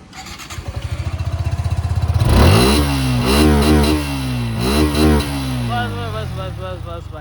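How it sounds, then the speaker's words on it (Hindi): A Suzuki Gixxer motorcycle with dual rear exhaust pipes chugs at idle, then revs hard several times in loud, rising and falling bursts, with a throaty exhaust close by and no talking. "बात करते हैं इन तीनों की एग्जॉस्ट साउंड की। तो सबसे पहले स्टार्ट करते हैं जिक्सर से।"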